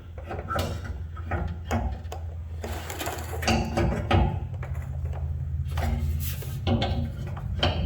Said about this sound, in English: You slide back and then slowly unhook it from the front that holds it in.